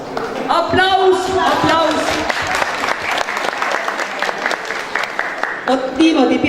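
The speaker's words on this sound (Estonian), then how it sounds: "Aplaus meie rahvarile ka." Concert audience applauding at a touring party concert in Haapsalu, steady loud clapping throughout with a host's voice speaking over it.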